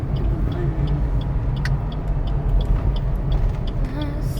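Heavy road traffic rumbles continuously as cars and buses pass close by, with a deep engine drone, occasional hiss and a faint voice underneath.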